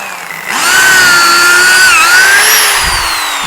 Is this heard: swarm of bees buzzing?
no